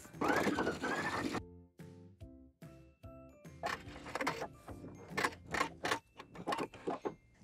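Sewing machine stitching down the turned-under top edge of an apron pocket, a dense run of rapid needle clatter first, then short bursts of stitching broken by pauses and tonal mechanical clicks, close and moderately loud.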